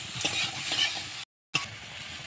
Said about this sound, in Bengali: এবার ভালো করে নেড়ে নেব, আর একটু ভেজে ভেজে নেব আমি।